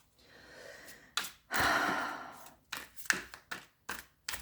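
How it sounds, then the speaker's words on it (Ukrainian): A person gives a long, breathy yawn, drawn out for about a second at close range, followed by a few soft clicks and taps in an otherwise quiet room. "я зіваю, позіхаю"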